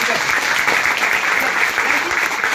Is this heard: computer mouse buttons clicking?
no